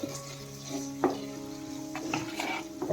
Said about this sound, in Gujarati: પાછળ ચમચો જરાક આપણે ફેરવી લેશું